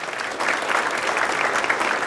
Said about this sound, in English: If we can give a round of applause to the tech team who made the slides and the video all possible.